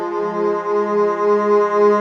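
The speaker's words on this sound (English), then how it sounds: "Let's listen to just the drone on the standard setting." An Ableton Live synth drone on its standard setting with effects off holds one steady, loud tone that swells gently for two seconds, with no speech.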